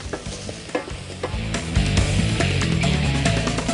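Garlic, grated ginger and chopped tomatoes are stirred and fried in a pot for harira soup, with a loud close sizzle and repeated scraping stirring strokes, no voices.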